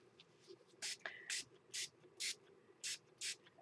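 Quick hissing bursts of spray paint aimed at a boot-shaped coffee pod holder craft piece, six short even puffs about half a second apart, faint and close in a quiet room.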